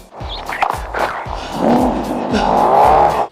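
Animated car driving someone to the hospital: a steady engine drone that rises and rolls on, loud and close, with a few knocks and tire or road noise layered over it.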